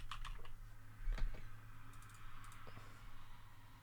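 Computer keyboard typing in a quick, uneven burst of close key clicks, with a steady low hum underneath and no talking.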